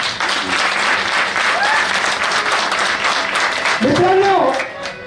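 An audience at a business seminar claps in a full, sustained burst that fills the room. Near the end a voice cuts in briefly over the tapering applause.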